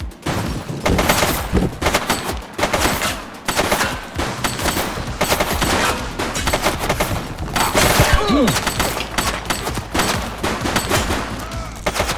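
Dense gunfire in the police video game The Precinct: rapid bursts of automatic fire mixed with single shots and booms, loud and continuous, with a brief shout in between.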